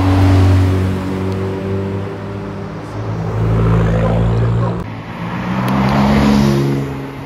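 A Ferrari F8 Spider sports car drives past on Monaco's Avenue Princesse Grace, its engine revving loudly and swelling in waves, with other traffic rumbling around it.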